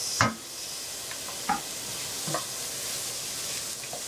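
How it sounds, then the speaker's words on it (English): A chopped tomato sweating in a pan with garlic, giving a steady bright hiss of frying with a few quick scraping stirs scattered throughout, close and alone with no talking. "I'm gonna let it sweat a little bit on the pan."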